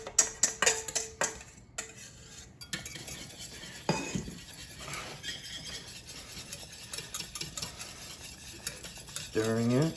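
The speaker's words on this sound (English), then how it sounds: "Stirring it." A spoon stirs an egg yolk custard of dairy and sugar in a hot pot for a fruit and berry tart, scraping and clinking against the metal in steady close strokes, with a faint simmering hiss underneath.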